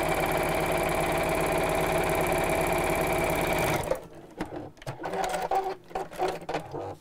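A sewing machine stitches a rope handle bag in a steady, rapid run close up, then stops, leaving a voice speaking with scattered handling noises.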